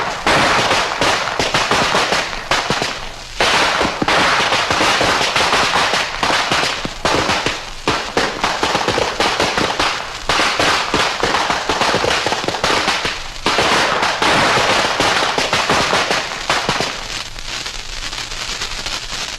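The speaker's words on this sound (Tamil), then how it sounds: "தினமும் பட்டாசு வெடிச்சு காசு வேஸ்டா தான் போகுது" Firecrackers burst in a dense, loud, continuous crackle of rapid pops for the whole stretch, heard in a Tamil movie scene, with no talking over it.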